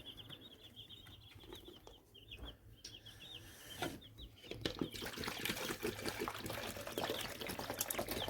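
Water from a one-litre container is poured into a drinker for young chicks, a trickle rising to a steady splashing pour, with chicks cheeping nearby throughout.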